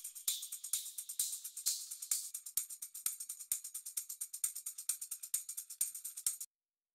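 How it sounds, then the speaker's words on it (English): Trap-beat shaker sample with a tambourine-like jingle, repeating in a steady, fast sixteenth-note pattern with crisp bright hits and regular accented strokes, loud and alone before cutting off abruptly. "So all of this is a shaker of some kind, like a tambourine."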